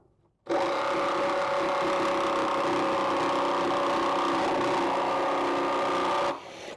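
A jigsaw cuts through wood for a stair riser, giving a steady, loud motorized buzz that starts abruptly and holds an even drone for about six seconds before stopping, with no talking.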